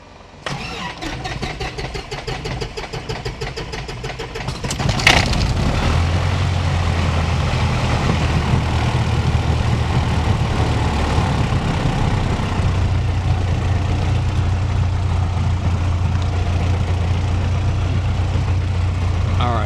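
A small airplane's piston engine cranks briefly, then catches with a sudden surge and settles into a steady, loud idle that stays close and constant to the end.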